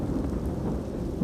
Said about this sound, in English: It began to downpour, and Ray ducked into a hollow of a mammoth t